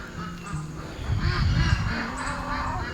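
A flock of ducks honks and quacks repeatedly at moderate distance in wet, rainy weather, with the calls overlapping over a steady background hiss.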